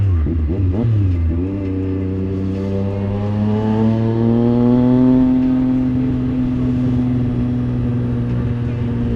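A Triumph Street Triple 765 RS motorcycle engine drops in pitch after a brief rev, then pulls steadily and climbs through a long highway acceleration, loud and close with a rising whine.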